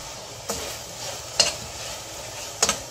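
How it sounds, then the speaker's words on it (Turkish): Pepper paste and tomato paste sautéing in a pan, with a soft continuous sizzle under three sharp stirring scrapes of a utensil against the pan, spaced about a second apart, close and moderately loud. "Şimdi buradaki bir diğer püf noktamızsa salçalarınızı güzelce kavurun."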